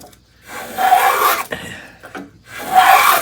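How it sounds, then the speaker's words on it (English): A Record plough plane cuts a groove along a wooden board. Two long, rasping shaving strokes are heard close up, split by a brief scrape and pause, and no one speaks. "I'm getting a nice groove with nice shavings along the whole length of this board"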